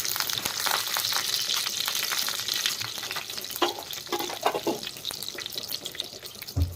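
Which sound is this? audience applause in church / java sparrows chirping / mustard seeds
mustard seeds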